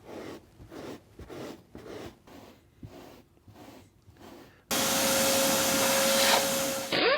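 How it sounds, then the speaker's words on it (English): A vacuum cleaner runs inside a car, with rhythmic brushing and scrubbing strokes at first, then a loud, steady suction roar with a whining tone that starts suddenly and fills the rest. "After vacuuming out your interior"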